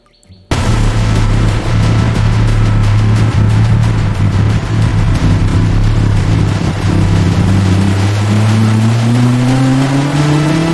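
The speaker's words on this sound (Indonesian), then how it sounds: "truk monster" Toy monster truck engine revving, a loud continuous motor roar that kicks in abruptly after half a second and climbs steadily in pitch toward the end, with no talking.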